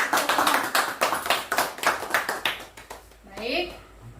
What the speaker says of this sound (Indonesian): tepuk tangan dulu buat Pak Dwi